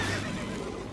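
A horse neighs in a Witcher video game, a brief, loud whinny filling the whole second over a dense, steady background.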